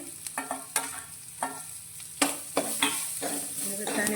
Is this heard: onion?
yes